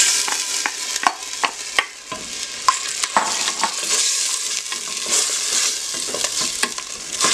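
Onions fry in oil in a pan with a bright steady sizzle, broken by repeated clinks and scrapes from stirring, close and loud, with no voices.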